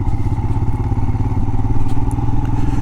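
A Royal Enfield Himalayan motorcycle engine runs steadily up close, with a low throbbing drone and occasional clatter and thumps as it rolls through muck at DeSoto National Wildlife Refuge.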